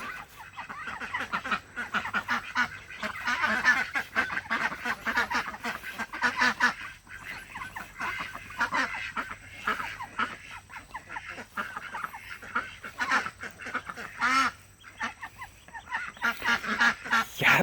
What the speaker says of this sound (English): Duckies.